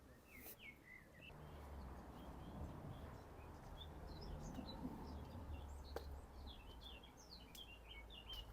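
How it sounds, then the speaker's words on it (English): Blackcap song in short bright phrases from a bird nearby, outdoors above a steady rumbling roadside background along a cracked landslip road in Ventnor, with other faint chirps scattered through. "Love that blackcap song."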